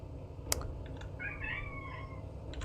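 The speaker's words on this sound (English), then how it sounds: "I need to kick my cat out." A house cat meows once in a drawn-out, wavering cry, close by and moderately loud over a low room hum, with a few sharp clicks around it.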